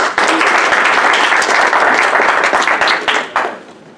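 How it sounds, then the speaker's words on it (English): Audience applause welcoming a speaker at a natural health conference, a dense, loud wash of many hands clapping steadily for about three seconds before tapering off, with no talk over it. "let's give him a big round of applause and welcome Dr. Williams"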